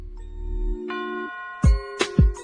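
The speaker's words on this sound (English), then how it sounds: "I'm playing it for the church bells" Recorded church bells play as a short sequence of bright, ringing bell tones: a low sustained tone, then higher chimes and three sharp struck strikes with decaying resonance, clear and close.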